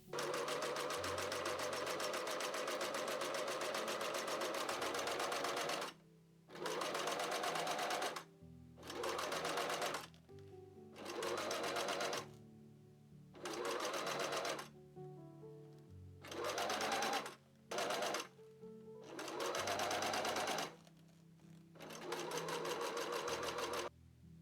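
A sewing machine stitching a seam in costume fabric, loud close mechanical whirring in bursts of a few seconds each, separated by short pauses as the stitching stops and restarts.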